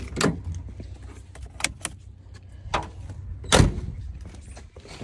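Doors and panels on a Ford Bronco are shut during a parasitic draw check, giving several sharp close thumps and clicks spaced irregularly over a quiet background, with faint jangling between them.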